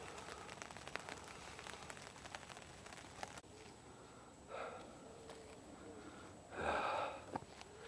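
Rain falls on a tent at a Norfolk campsite, a soft, faint, steady patter with a few louder rustles, and no talking.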